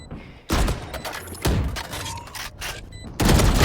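Gunfire in a video game, with loud bursts of rapid shots and heavy thumps in close succession through the game audio and no one talking over it.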